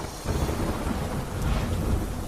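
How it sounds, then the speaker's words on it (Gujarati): Heavy downpour in Mandi, Himachal Pradesh, a loud continuous wash of rain with a deep rumbling undertone like thunder, steady throughout and without voices. "हिमाचल प्रदेशના મંડીમાં જોરદાર વરસાદ"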